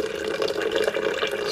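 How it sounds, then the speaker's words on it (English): Boiling water pours onto coffee grounds in a steady, close, continuous splashing stream, heard alone. "you just take your boiling water and you pour it on top"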